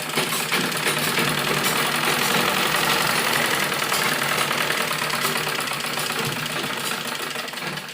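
A sewing machine running steadily while stitching fabric for an umbrella frock, a continuous loud whirring buzz close by with no pauses.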